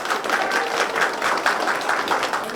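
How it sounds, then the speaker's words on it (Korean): Audience applause welcoming a National Assembly member at a policy debate on cultural heritage in western Hwaseong, a full, steady round of clapping from a crowd filling the room. "큰 박수 부탁드리겠습니다."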